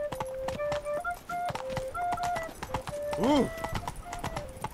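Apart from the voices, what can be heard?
horse Roach galloping, video game The Witcher 3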